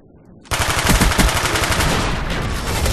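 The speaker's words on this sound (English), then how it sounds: "Firing for effect." Rapid, loud bursts of an artillery barrage in Call of Duty Black Ops, a dense volley of blasts erupting suddenly after a quiet moment and continuing as a sustained roar of impacts.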